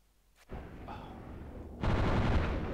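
Gunfire in the video game Trouble in Terrorist Town: a burst of shots after a brief quiet start, then heavier continuous rapid firing that swells and keeps going to the end.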